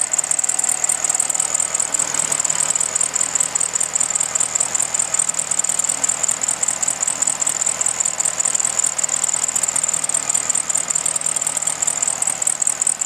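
A 1966 Volkswagen Beetle engine with an electric choke idles steadily, a close, even, fast ticking chatter with a constant high whine, warming up without pause for the whole stretch.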